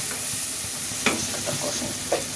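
Spices being stir-fried with cumin powder and salt in a pan for an egg dish with aubergine and tomato: a constant close sizzle broken by a few sharp scrapes of the spoon, no talking.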